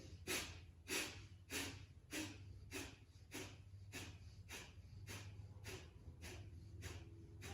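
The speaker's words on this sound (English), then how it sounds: "Now let's do a round of 25 Kapalabhati breaths." Kapalabhati yoga breathing, a series of forceful nasal exhales puffing out in a steady rhythm about every half second, soft and close, with no talking.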